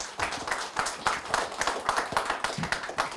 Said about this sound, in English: At a big round of applause, please.